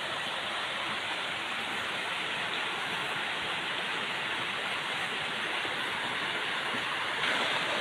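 A clear river flows through a village in West Java, producing a steady, full rush of water that stays even and unbroken throughout, with no voices.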